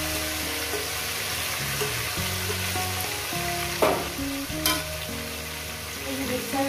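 Chicken pieces hit hot oil with bay leaf, whole garam masala and cumin for a Bengali chicken curry, sizzling and frying steadily while being stirred, with a couple of sharper clatters midway.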